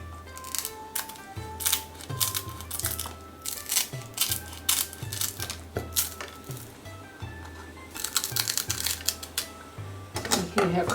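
A knife cutting through crispy skinned salmon fillets makes repeated close crunchy cracks and crackles, with sharp clinks of utensils and a thudding board under steady kitchen chatter.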